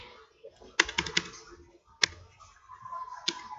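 Computer keyboard keys clicking while Java code is deleted, several quick bursts of taps followed by single sharp strokes, close and fairly quiet over faint room hum.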